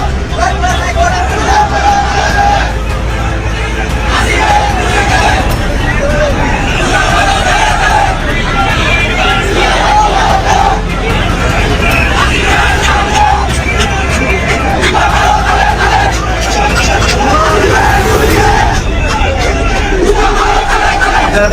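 A large crowd at a broom protest march against corruption in Muradnagar chants slogans loudly and continuously, a dense roar of massed voices and shouting that stays near and constant throughout.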